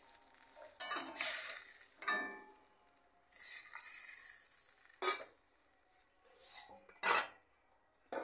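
A lid set onto a pot of Bengali eggplant, potato and fish curry, heard as several sharp metallic clinks and scrapes in bursts with quiet gaps between, close and fairly crisp.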